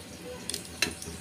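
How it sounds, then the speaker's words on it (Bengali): Whole cumin seeds dropped into hot oil that already holds bay leaf and dried red chilli for chicken curry give a steady, close sizzle with a couple of brief crackling bursts. "এবার দেবো গোটা জিরে ফোড়ন।"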